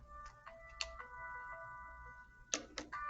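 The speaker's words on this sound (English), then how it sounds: "I think that is my phone ringing" A phone ringing faintly in the background with repeated electronic chime tones, a few sharper clicks breaking in, no voices over it.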